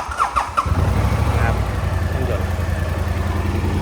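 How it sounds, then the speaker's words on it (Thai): BMW C650GT scooter from 2016 starts up: a few quick starter whirs and squeals, then the engine catches and settles into a close, steady idle. "ฟังเสียงเครื่องยนต์"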